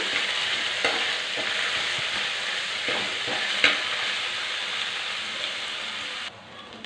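Onions frying in hot oil with spices and ginger paste, giving a dense, steady sizzle close up, with a few soft stirring knocks and no voices.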